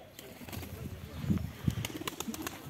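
A misk pigeon chick gives soft low coos and brief rustles among other pigeons, close and fairly faint, with a few sharp clicks scattered through.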